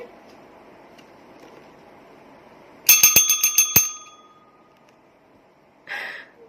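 A small bell rung in a quick burst of about six bright strikes, close and clear, followed by a brief softer sound a couple of seconds later over faint background.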